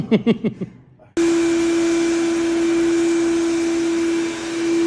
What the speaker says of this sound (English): Now I got Dan shop vacuuming up the larger area of the stripper.